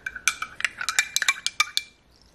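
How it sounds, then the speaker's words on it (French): A spoon stirring a drink in a glass, a quick run of bright clinking taps against the sides, close and clear, roughly a dozen strikes in about two seconds before fading out. "On va tout touiller."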